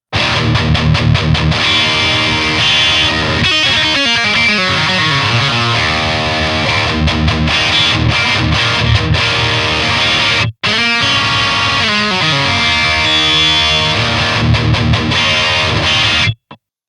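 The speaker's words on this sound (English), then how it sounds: "when you play a chord with open strings, there's a lot of brightness, snarl, and bark going on" A distorted Schecter KM-7 MK-III seven-string electric guitar rings out bright, snarling open-string chords over and over, loud and sustained, with a brief cut in the middle.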